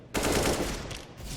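Sustained burst of rifle fire in the CS:GO map Train, spraying through a wall, a dense rattling volley of rapid shots that starts abruptly and continues for over a second at moderate distance.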